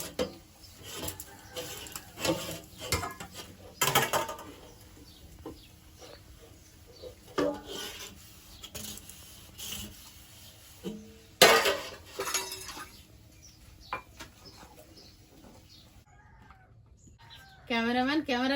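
Dishes and pots being scrubbed and rinsed in a home kitchen while bitter gourd fries, giving scattered clinks, knocks and scraping at close range with irregular pauses, and a louder burst of clattering near the end.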